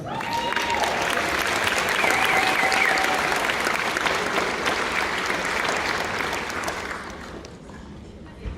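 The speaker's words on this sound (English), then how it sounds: "give a round of applause" Crowd applause at a Comic Con panel for the Lucifer cast, a dense, sustained wash of clapping from a large audience that holds steady for about seven seconds, then thins out, with a few cheers and voices mixed in.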